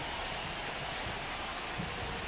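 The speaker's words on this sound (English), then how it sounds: "This rain is not letting up." Rain falls on a baseball stadium in MLB The Show 25 as a steady, dense hiss with no gaps, moderately faint and with no talking over it.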